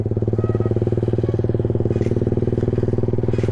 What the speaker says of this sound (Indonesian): Gue ini yang pakai motor cuy.